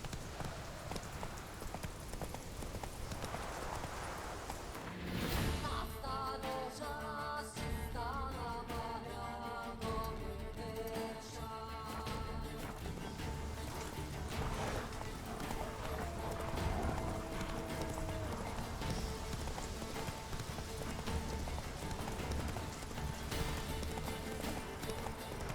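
Roach, a horse in The Witcher 3, galloping with steady clip-clop hoofbeats under a constant bed of game music and ambience, one brief whinny-like cry among the running rhythm.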